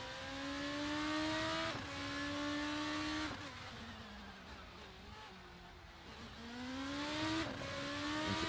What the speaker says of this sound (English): But Luca Farina now starts his first flying lap.